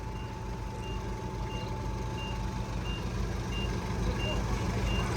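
Truck slowly backing up into a shop, its reversing alarm beeping steadily in a regular rhythm over a low idling engine rumble, moderately distant, with faint voices calling out.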